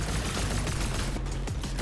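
Rapid gunfire from a Fortnite match, a dense continuous rattle of shots at steady loudness, close and busy with overlapping game effects.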